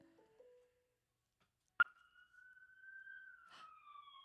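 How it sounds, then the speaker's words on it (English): A single siren wails faintly after a sharp click, holding a steady, drawn-out tone that slowly dips, heard from a distance in near silence. "that siren scared me for a minute"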